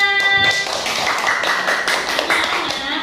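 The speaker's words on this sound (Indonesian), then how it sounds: "Tepuk tangan untuk teman kita Sania." A classroom of primary pupils claps for a classmate, brisk sharp hand claps in a lively burst, close and fairly loud, with a few children's voices briefly mixed in.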